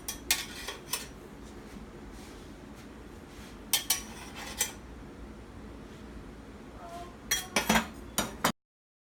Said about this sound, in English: now we are putting the whole pizza onto this dish